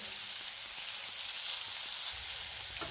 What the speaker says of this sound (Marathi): त्याला गॅस फुल करूनच भाजायच्या. अगदी 2-3 मिनिटांमध्ये शेंगा भाजून तयार होतात.